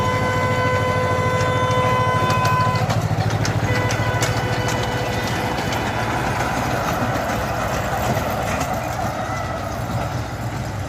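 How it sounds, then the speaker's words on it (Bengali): Toy train in a park in Cooch Behar rolling past, a steady rumble with clickety-clack of wheels and a tonal engine whine in the first seconds, loud and close throughout, fading slightly toward the end. "এই যে ট্রেনটা আসতেছে"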